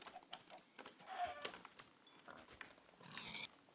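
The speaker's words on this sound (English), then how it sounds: "there's a pig. Kill it." A Minecraft pig grunts and oinks in short faint snorts amid quiet game ambience, a few brief calls spread across the moment.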